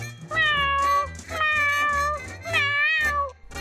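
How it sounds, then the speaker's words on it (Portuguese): A kitten gives three drawn-out, whiny meows in close succession, close and fairly loud, over a faint low background hum, with no talking. "Ó, um gatinho."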